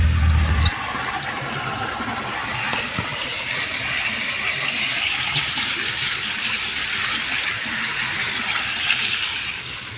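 Plenty of water rushes through a roadside drain after rain, a loud continuous gushing and splashing that stays steady for the whole stretch, with no talk.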